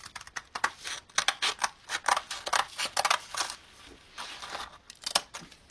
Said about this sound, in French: je coupe une petite bande de papier